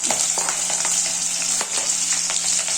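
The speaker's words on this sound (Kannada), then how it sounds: "ಎಣ್ಣೆ ಕಾದಿದೆ, ಚಟಪಟ ಅಂತ ಸಾಸಿವೆ ಸಿಡಿತಾ ಇದ್ದಾವೆ." Mustard seeds spluttering in hot oil with green chillies frying for a Karnataka bassaru dish, a steady close sizzle broken by sharp popping crackles.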